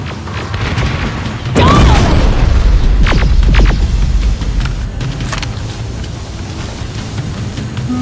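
A grenade blast in the Terminator Resistance video game gives one loud boom followed by rumbling, crackling debris, then lower mechanical background noise.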